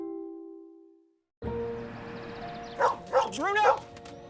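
A dog barks and yips three times in quick succession in a Nissan Rogue TV ad, loud and close, following a tone and under a voice calling out.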